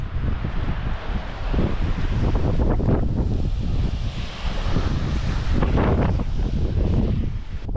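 Strong wind buffets the microphone in steady gusts on a high point near Malibu, a loud low rumble with rushing noise throughout, no voices.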